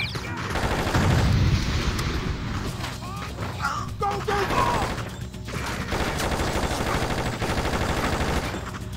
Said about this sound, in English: Wow, that was powerful grenade